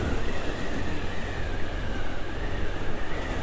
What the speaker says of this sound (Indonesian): Ada kereta lewat guys, ini KRL ya.